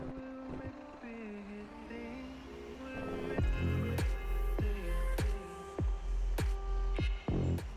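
A modded truck in a video game descends a mountain road with its engine brake on, a droning, pitch-shifting engine rumble punctuated by repeated sharp thumping bursts.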